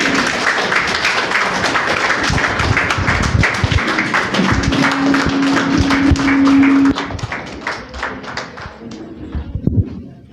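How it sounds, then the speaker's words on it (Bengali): An audience claps loudly in a hall, a dense patter of hands that runs steadily for several seconds and then thins into scattered claps, with a voice and a faint sustained tone beneath. "তো জোরে হাততালি।"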